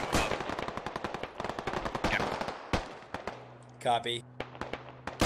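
Video-game gunfire in Squad: rapid bursts of close automatic rifle and machine-gun fire crackle in quick succession, then a short spoken radio reply cuts in among the shots.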